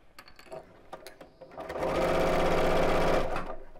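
A sewing machine stitches a viscose bag, starting with a few slow, uneven stitches and then running into a steady, loud, fast whir before easing off at the end.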